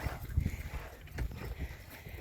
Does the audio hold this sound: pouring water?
no